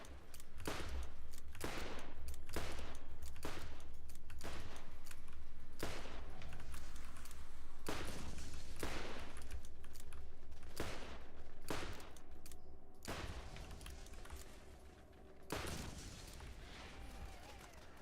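Video game gunfire crackles in repeated sharp bursts and single shots, loud and close, spaced irregularly over a low steady background rumble with no talk.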